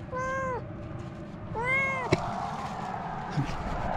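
A cat shut in a cat carrier meows twice, clear and close, with a pause between the calls. A sharp click follows the second meow, over low background noise.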